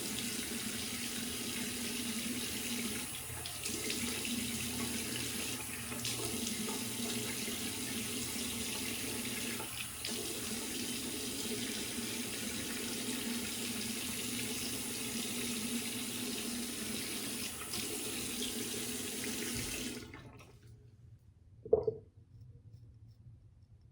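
Water runs steadily from a tap as a razor is rinsed beneath it, a constant loud splashing broken by brief knocks, then it cuts off abruptly near the end, leaving near silence and one short clatter.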